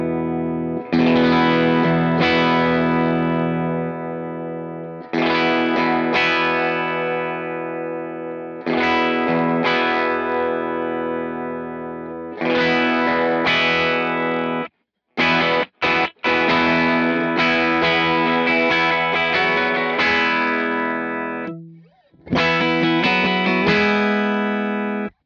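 Strummed chords run through an Empress ParaEQ MKii pedal with its high-pass filter pushed far up, sounding thin, distorted and lo-fi like an AM radio, in repeated loud phrases separated by brief silences.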